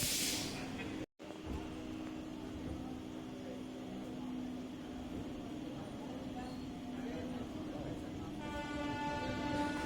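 A train pulling out of Ramrajatala station toward Santragachi, with a steady rolling rumble of the carriages, a sustained horn tone toward the end, and talk partly over it.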